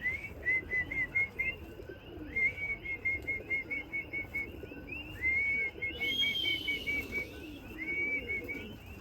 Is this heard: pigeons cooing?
yes